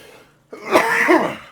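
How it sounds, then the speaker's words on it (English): A single close, throaty cough from someone recovering from illness breaks a short silence, rough and slightly raspy, with a second harsh push at the end. "I got this cough now"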